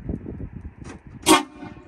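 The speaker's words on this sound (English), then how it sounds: "And it has train horns." A single brief, loud train horn blast from a lifted truck rises over a low rumbling engine background, close by.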